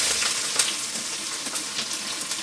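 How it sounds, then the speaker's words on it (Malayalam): A pot of water with fish in it on the boil, a steady hissing bubbling sizzle close up, with small pops scattered throughout. "നമ്മൾ മീനൊക്കെ വെച്ച വെള്ളമൊക്കെ തിളച്ചിട്ടുണ്ട് കേട്ടോ"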